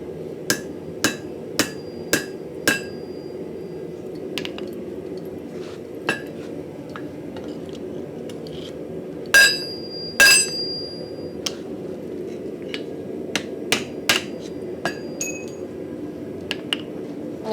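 Hammer blows on a Finnish style axe head as the collapsed eye is stretched back out during forging: sharp, ringing metal strikes in quick bursts and scattered single hits over a steady low workshop hum, no talking.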